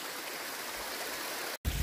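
A woodland stream in Valdinievole flows beneath what seems like a sheet of ice, giving a steady broadband rush of running water that holds on evenly, then breaks off briefly before resuming close by.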